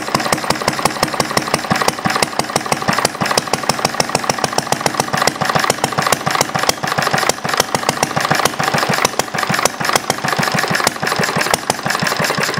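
A glass-head engine runs steadily on fuel, giving a loud, continuous rapid firing rhythm throughout with dense repeated pulses and no talk.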